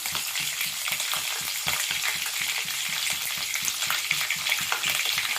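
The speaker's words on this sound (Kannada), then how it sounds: "ಕಡಲೆಬೇಳೆ ಸ್ವಲ್ಪ ಫ್ರೈ ಆಗಲಿ ಚೂರು" Chana dal and peanuts fry in a pan with a dense, bright crackle and rapid popping that runs steadily and close throughout, with no voices.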